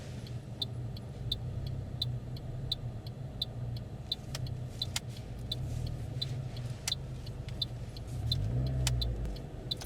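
A car approaches from behind and overtakes during a driving test, its engine a steady mid-distance road rumble that swells near the end, with regular ticking from an indicator over the top and no speech.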